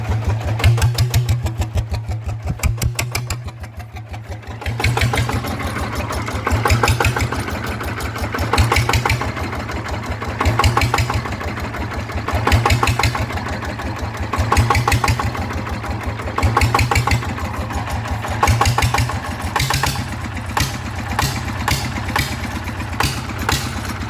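A rebuilt Yanmar engine runs loud and close at a steady idle, its rapid, rhythmic chugging swelling and easing in regular pulses with no voices.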